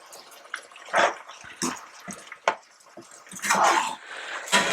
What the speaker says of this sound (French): On va mettre notre eau de cuisson dedans.